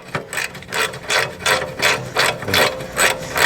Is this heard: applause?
no